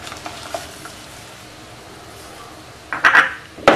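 Ground herbal paste poured into simmering rasam, a Tamil medicinal soup, on a home stove: soft steady bubbling and sizzle, then a brief splashy pour and stirring near the end, close and moderately loud.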